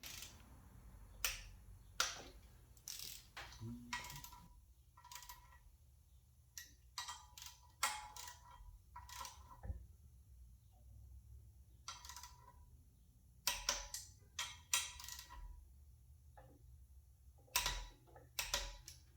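Engine assembly work on a 408W: sharp, scattered clicks and ticks as a wrench torques a nut down, close and quiet, with irregular pauses between the clicks.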